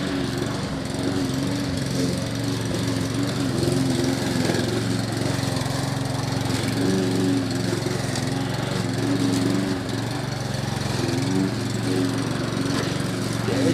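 A Mountfield HP 454 petrol lawn mower with a broken throttle cable runs continuously, a steady loud close engine drone with an even tone and no breaks for the whole stretch.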